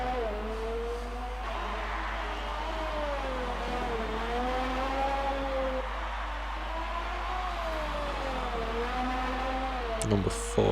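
Simulated engine of an F1 2019 race car in a league race, a sustained high whining drone that rises and dips as the car works through corners, with a faint clatter near the end.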